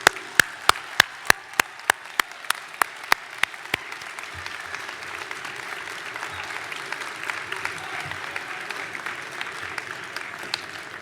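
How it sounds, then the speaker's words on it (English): Winter 2019 university graduates applaud their audience at a commencement ceremony. A few sharp, evenly spaced claps come first, then the sound swells into sustained, dense applause across a large hall. "give them a round of applause for all"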